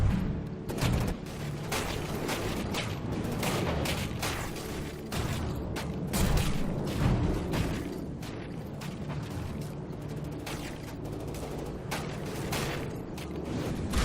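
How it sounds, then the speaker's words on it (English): Missiles and explosive rounds hit a ship hull in the From the Depths video game, a dense, continuous barrage of loud booms and impacts with no talking. "Mullet missiles striking the side there."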